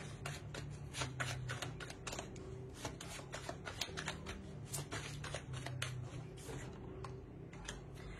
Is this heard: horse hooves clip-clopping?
no